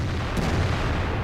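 A self-propelled artillery gun fires in World of Tanks, a single deep boom that swells and rolls into a long, loud rumble with no voices.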